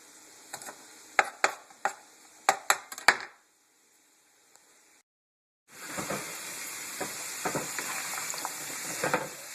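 Potatoes frying in a pan, preceded by a series of sharp metallic clicks and clacks and a brief silence, then a steady close sizzle with small crackles.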